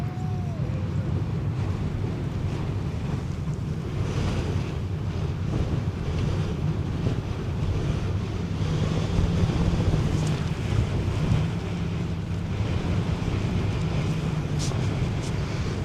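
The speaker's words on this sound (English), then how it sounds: "The wind is absolutely blowing now." Strong wind blows steadily across the microphone at an outdoor motorkhana event, a loud continuous rumbling roar with gusty swells and no clear voices.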